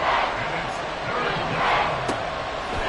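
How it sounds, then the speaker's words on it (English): Football stadium crowd roaring in a continuous broad wash of cheering and shouting, with a brief sharp whistle-like burst, while a commentator talks over it. "this crowd doing their best to make a lot of racket"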